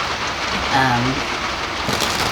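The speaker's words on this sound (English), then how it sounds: "it sometimes feels like a perk to be able to hear the rain on the roof like this" Rain pours on a roof in a dense, even patter that fills the whole stretch, with a voice faintly heard beneath it.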